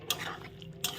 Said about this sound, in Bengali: এখন আমি নেড়ে চেড়ে নিলাম